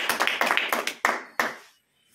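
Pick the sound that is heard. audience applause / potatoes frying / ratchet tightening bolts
audience applause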